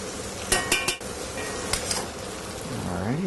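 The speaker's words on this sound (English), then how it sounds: "And a quick stir." A quick stir of a pot of Italian dish, metal utensil knocking and scraping against the pot in a few sharp clinks, then a softer swirling scrape near the end, close and moderately loud.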